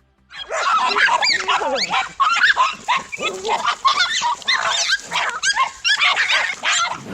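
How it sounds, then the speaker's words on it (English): Four dogs bark at a reptile in a frantic, continuous chorus of loud yips, barks and whines, close and overlapping for several seconds. "all 4 dogs unleash a chorus of barks, hoping to intimidate the reptile"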